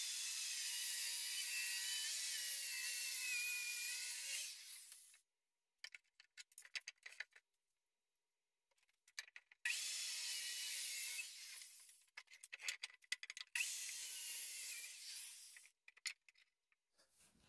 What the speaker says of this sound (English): So I'm gonna grab my circular saw and we're gonna get this board on the floor and get to cutting.